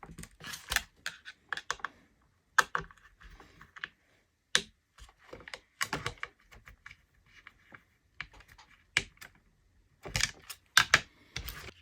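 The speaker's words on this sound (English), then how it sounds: "Now I'm going ahead and tighten these up." Screws are tightened on a Tekno SCT410 2.0 RC short course truck kit build, giving close, sharp clicks and small scraping ticks in irregular bursts with short pauses between them and no talking.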